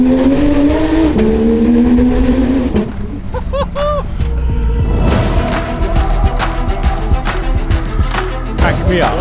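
Porsche 911 GT3 RS engine revving hard and close, a loud, rising and falling mechanical roar that continues throughout, with sharp bursts and crackles layered over it.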